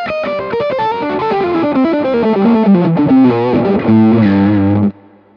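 Overdriven guitar through a Kingsley ToneBaron amp with the bright switches off on both channels, giving a dark, smooth, muted distorted tone; a continuous run of notes and chords, loud and close, ending in a brief decay.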